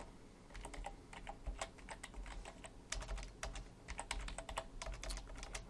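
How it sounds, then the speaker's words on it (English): Rapid typing on a computer keyboard while coding a Node.js project, with dense irregular key clicks in quick bursts, close and steady, with no talking. "can't type today"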